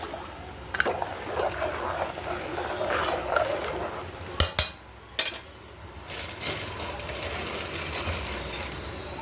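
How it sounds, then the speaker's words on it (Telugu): A ladle scrapes and stirs cooked rice in a home kitchen pot, producing soft irregular scraping and clinks with a few sharp knocks against the rim, close and moderately quiet, with no speech. "అన్నం కూడా ఒకసారి తిప్పుకుందాం"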